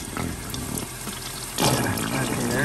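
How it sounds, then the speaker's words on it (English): Water flushes through the engine block of a 1966 Jaguar E-Type roadster during a cooling system flush, a steady rushing gush that swells louder partway through, with no talk over it. "we're just flushing out the engine block"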